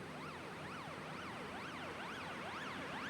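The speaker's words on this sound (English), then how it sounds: "these are the transition effects or the sound effects that I have used for the build-up section" Continuous dense noise bed with a bright tone sweeping up and down in a regular wobbling, siren-like pattern, steady and fairly loud throughout: a transition effect from an electronic track's build-up section.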